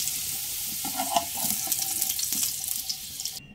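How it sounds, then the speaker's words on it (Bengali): Potato pieces frying in oil in a kadai, a continuous hissing sizzle with scraping stirring noises through the middle, ending abruptly. "আলুগুলো নেড়ে চেড়ে লালচে রং ধরে আসা পর্যন্ত ভেজে নিয়েছি"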